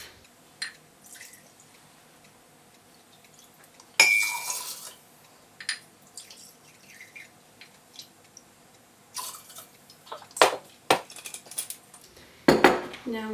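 Whiskey is measured and poured into a blender in a kitchen: clinks of glass and utensils, dripping and splashing liquid, scattered knocks and a couple of louder clattering bursts, close by with no talk.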